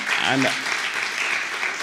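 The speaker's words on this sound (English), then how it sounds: "can we have a big round of applause, everyone?" Audience applause at a heads-of-state event on water and sanitation, a brief stretch of steady clapping with a voice speaking briefly at the start.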